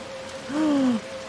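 Rain falls in the video game Little Nightmares 2 as a soft, steady hiss. Partway through, a brief low tonal hoot rises over it, and there is no talk.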